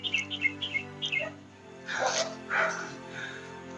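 A few dogs bark in short, sharp bursts early on, followed by louder, noisier yelps or calls nearby, with some chirpy high tones mixed in.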